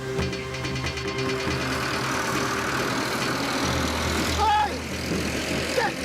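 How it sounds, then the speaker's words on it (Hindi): A tractor engine idles steadily at a village gathering, a low continuous rumble running under people talking throughout. "ट्रैक्टर बंद करो"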